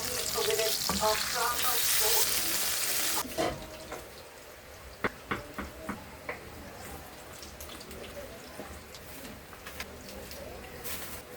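Pork chop frying in a pan: a dense, loud sizzle at first that drops away, followed by scattered spatters, pops and light scraping of the pan. Bird cooing sounds faintly in the background.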